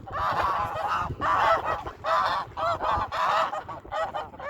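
A goose honks loudly and close by, about seven nasal calls in an uneven series with short pauses between them.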